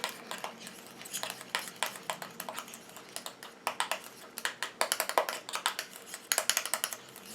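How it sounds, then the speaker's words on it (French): Quick, light clicks and taps of a small utensil mixing hand cream ingredients in a container, close and fairly quiet, in an irregular rapid rhythm with no talking. "Je mélange."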